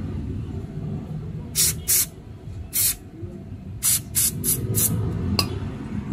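An aerosol cleaner is sprayed onto the idle screw of a Nissan SR20DET engine in several short hissing bursts, some paired and some quick in succession, over a low background rumble.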